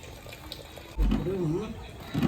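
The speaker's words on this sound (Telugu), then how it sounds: "మళ్ళీ ప్లేట్ మూసి ఇంకా బాగా వడగట్టుకోవాలి నీళ్ళని" Water from cooked rice for biryani pours and drains off past a plate held over the pot, a short gushing flow that starts suddenly and runs on steadily, close, while someone talks.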